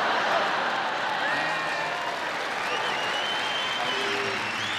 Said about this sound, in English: They're just applauding as I sang a song.